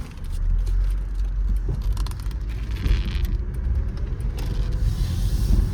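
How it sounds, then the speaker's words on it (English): A 2002 Mercedes E320 4matic wagon on the road, giving a steady low engine and road rumble with faint rattles inside the cabin and no talking. "We're taking it for a short drive since I don't really trust this car that much"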